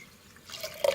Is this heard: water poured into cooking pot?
yes